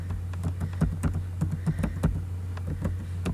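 Typing on a computer keyboard while naming a file for a Brother ScanNCut cutting machine: a quick, irregular run of light plastic key clicks, close and fairly quiet, with no talking.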